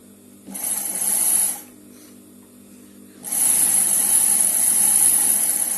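A sewing machine stitches a lined blouse in two bursts of close, steady whirring, with a short quiet pause between the runs.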